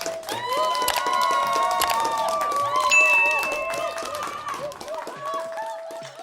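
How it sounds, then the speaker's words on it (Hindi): A short burst of crowd clapping and cheering with children's shouts rises and fades over a few seconds, mixed with bright chiming tones and light percussive ticks. "कहानी शुरू करने से पहले एक बार ताली बजा दीजिए"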